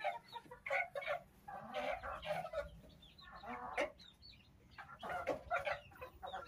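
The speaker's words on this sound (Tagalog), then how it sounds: "Ayun natin mga inahin." Hens clucking on a farm, a flock of fowl giving repeated clucks and calls close by over steady outdoor background noise.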